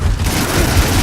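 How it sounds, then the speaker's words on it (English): Rocket blasts in the sci-fi shooter Farpoint, fired at a huge spider: a dense, continuous low rumble of explosions lasting about a second, loud and close with no clear gaps between hits. "Throwing at some rockets right now."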